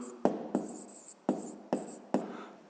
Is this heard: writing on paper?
yes